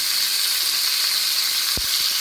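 Masala and tomato frying in coconut oil, a steady close sizzle with a couple of brief knocks near the end and no talking.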